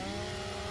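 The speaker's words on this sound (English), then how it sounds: "And I just chainsawed that guy through the barrier" A chainsaw attack in the Gears of War video game, a brief, steady buzzing whine of the revving saw blade, close and continuous for under a second.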